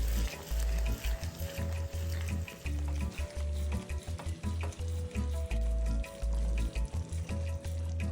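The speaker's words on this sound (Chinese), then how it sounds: "油热后，再将搅拌后香料糊倒入，然后炉调至低火，再不停搅拌。" Chili spice paste frying in plenty of hot oil over low heat, bubbling and sizzling close up while a spatula stirs and scrapes it in repeated rhythmic strokes, for Nyonya sour-spicy fish.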